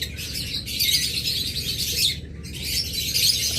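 Lovebirds kept in cages for breeding at a bird seller's give off a dense, continuous stream of high chirps and tweets, fairly close and steady, with a brief drop in the chatter about two-thirds through.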